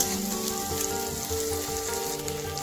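Ginger paste and tomato sizzle steadily in a hot pan for an egg curry, a dense continuous frying hiss with faint scraping as the mixture is stirred, close and fairly loud with no talking.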